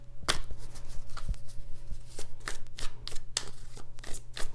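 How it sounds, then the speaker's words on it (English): Tarot cards being shuffled make a run of crisp riffling bursts and soft slaps at an irregular rhythm, close by and fairly quiet, with no voice over them. "Lots of shuffling, huh? Yeah, let's give it a shuff."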